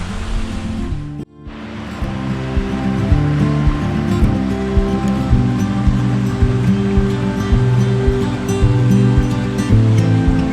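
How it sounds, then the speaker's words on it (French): A waterfall roars steadily close by, a dense continuous rush of falling water that fills the whole stretch after a brief cut near the start, with no voices. "on arrive tout près de la cascade"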